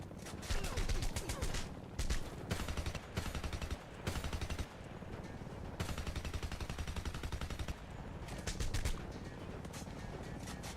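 Assault rifle gunfire in the Homefront video game, several bursts of rapid shots separated by short gaps, loud and close, with background game noise between them.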